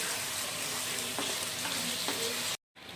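Ginger-garlic paste sautéing in a pan for a chhola ghugni, a steady close sizzle with a few faint stirring scrapes, cutting off abruptly near the end before resuming.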